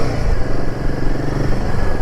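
A Royal Enfield Himalayan 450 motorcycle engine drones loud and close during a test ride, a steady rumbling thrum with slight throttle variation and no voices.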